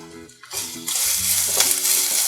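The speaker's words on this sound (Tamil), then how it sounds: "இப்போ எண்ணெய் சூடாயிடுச்சு, வெங்காயத்தை ஆட் பண்ணிக்கலாம்." Onions dropped into hot oil in a pan for onion samosa filling burst into a loud, close sizzle that swells and holds, over faint low humming tones.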